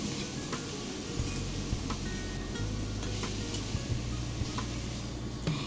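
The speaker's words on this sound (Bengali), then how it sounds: "এবারে বিটটাকে তেলের সাথে ভালোভাবে নাড়াচাড়া করে নিতে হবে আর এই সময় হিটটাকে রাখতে হবে হাই ফ্লেমে" Grated beetroot being stirred in hot oil over a high flame, a steady close sizzle with faint spatula scrapes and light ticks throughout, with no voices.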